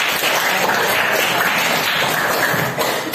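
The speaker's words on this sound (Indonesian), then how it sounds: "tepuk tangan untuk Dimas" Classroom applause for a student named Dimas after a group presentation, a dense, steady wash of many hands clapping throughout, fading slightly at the very end.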